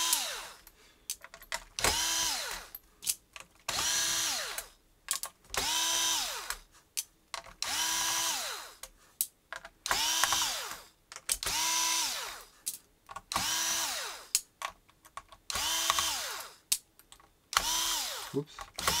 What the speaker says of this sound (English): you just gotta remove all these screws now.